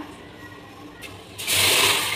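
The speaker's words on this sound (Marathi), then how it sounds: "आपण भाताला पाणी ठेवतोय।" Water is poured into a cooking pot for rice for a fish biryani. After a quiet start with a brief splash, it becomes a loud, steady gushing rush.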